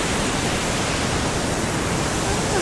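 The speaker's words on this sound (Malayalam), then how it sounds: "ഇതാണ് വെള്ളച്ചാട്ടം. നമ്മൾ വെള്ളച്ചാട്ടത്തിൽ എത്തിയിട്ടുണ്ട്." A waterfall at Mawsawdong Falls sends out a steady, dense rushing roar that stays even and close for the whole stretch, with no voices over it.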